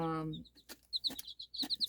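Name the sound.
bantam chickens clucking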